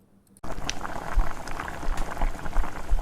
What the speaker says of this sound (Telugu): చూసారు కదా బాయిల్ అవుతుంది కదా మంచిగాను